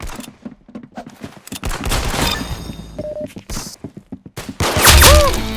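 Pistol gunfire in an Xbox shooter game: a quick rapid string of sharp shots with thuds and game effects, loud and close, separated by brief pauses and followed by a heavier burst.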